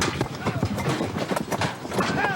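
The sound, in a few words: cattle hooves clomping while being loaded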